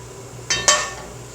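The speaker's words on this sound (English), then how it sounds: "So I'm going to heat up the pan here" A pan being set down and handled on a stovetop for heating, giving two quick metallic clinks close by over a low steady background hum.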